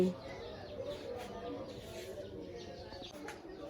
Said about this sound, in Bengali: মুরগি ধরবো।